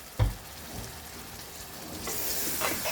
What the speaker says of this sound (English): Make sure it doesn't burn at the bottom. Keep on stirring.